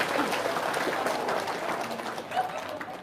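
An audience at an indoor prayer gathering breaks into applause, a moderate wash of many hands clapping that holds steady and then tapers off, with some voices mixed in.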